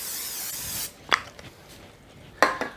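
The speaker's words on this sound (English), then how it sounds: "I'm going to spray this real lightly" Cooking spray hissing lightly from a can into a casserole dish for a Mexican casserole, a steady broadband spray lasting under a second at the start, followed by a few faint clinks and handling noises.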